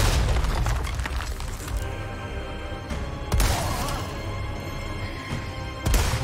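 Heavy rifle shots from Resident Evil 4 Remake boom out in a game boss fight against Krauser, with several loud broadband blasts spaced a few seconds apart over a rumbling background.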